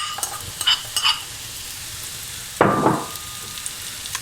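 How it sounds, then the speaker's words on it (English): Chopped onions hit hot oil in a frying pan with a sudden loud sizzle that fades, after a few light clinks of a utensil against the pan, close up with no talking. "heat your oil in your frying pan, and then we're just gonna dump our vegetables in."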